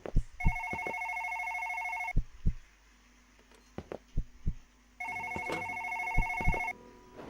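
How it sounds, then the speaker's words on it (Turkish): An office telephone rings in the horror video game One Late Night, two long electronic ring bursts separated by a pause, with sharp footstep-like thumps and clicks scattered throughout. "Bizim ofisteki telefon lan."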